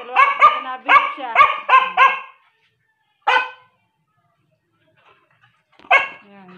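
Chow chow dogs barking close by in a rapid burst of overlapping barks and yelps during a scuffle, then two more single bark bursts after pauses.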